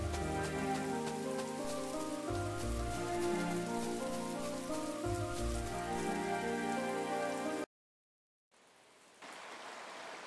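Rain falls steadily in the town of the Chained Echoes video game, a dense hiss of drops under sustained game music, then a brief silence and a fainter return of the rain.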